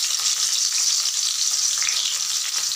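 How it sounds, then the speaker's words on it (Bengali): Lightly crushed garlic sizzles loudly and steadily in hot oil, a dense continuous crackle close up, with no talking over it. "প্রথমে আমি রসুনগুলোকে দিয়ে দিলাম"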